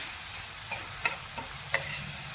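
Masala fries in oil for a matki and potato bhaji. A quiet, steady sizzle carries a few light spatula scrapes and taps as it is stirred, with no voices.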